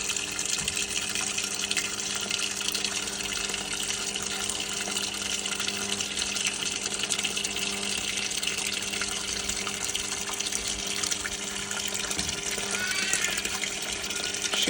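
A Hitachi PAF1260PX washing machine fills with water in a continuous, steady rush of flowing water with a faint mechanical hum beneath it and no voices.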